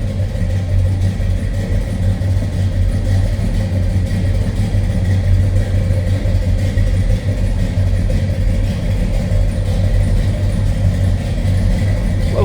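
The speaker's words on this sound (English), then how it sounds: "Let's listen to this. Sounds like we got a mild cam in that 390." A 1964 Ford F100 pickup's 390 V8 with a mild cam and Holley 4-barrel carburetor idles steadily, a deep, even rumble with a slightly loping beat, close and loud throughout without talk.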